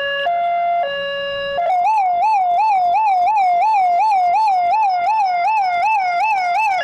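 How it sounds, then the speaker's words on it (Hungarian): A Hungarian-made Electris police siren from the 1980s, once mounted on early police car roofs, sounds loud and close: a few steady two-tone blasts, then a rapid, continuous warbling wail with no talking. "80-as években használt, ma már fehér holló, ritkaság számba menő, Electris, magyar gyártmányú, rendőrségi sziréna."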